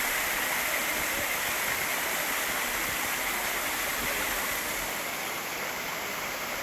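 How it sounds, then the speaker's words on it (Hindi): A forest waterfall near Srisailam plunges from a height, producing a steady, dense roar of rushing water that stays loud and unbroken throughout. "ये देखो, ये झरना काफ़ी ऊपर से आ रहा है।"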